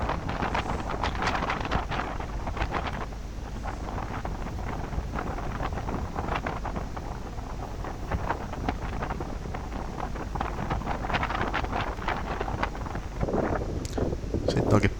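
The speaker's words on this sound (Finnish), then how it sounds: "Tosiaan ei ihan tyyntä ollut, että kyllä tässä vähän tuuli." Steady wind buffets the microphone with a continuous low rumble, and muffled voices talk underneath throughout.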